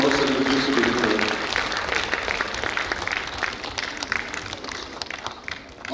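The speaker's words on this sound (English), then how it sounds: "Please, a round of applause for all of them." Sustained applause from a crowd honouring certificate recipients at a World AIDS Day session, dense and fairly loud, holding steady and slowly thinning toward the end, with faint voices underneath.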